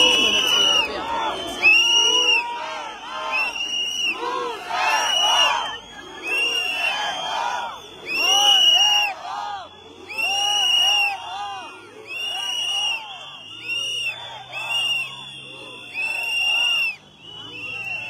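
A protest crowd on Rustaveli Avenue shouts in rhythmic bursts of chanting, rising and falling every second or two, with piercing high cries over the mass of voices and short lulls between chants.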